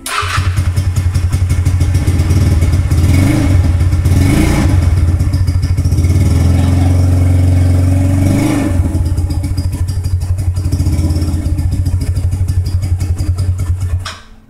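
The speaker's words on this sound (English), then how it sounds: "40 series Flowmaster on a scooter." A custom scooter's engine runs through a newly mounted 40 series Flowmaster muffler, a loud, close, rumbling idle with several rising revs and a continuous pulsing drone before it cuts off.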